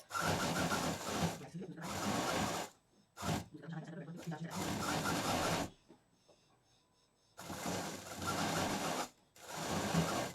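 A sewing machine stitches the top edge of a fabric bag in several loud, close bursts of rapid whirring, broken by short pauses and quieter handling sounds.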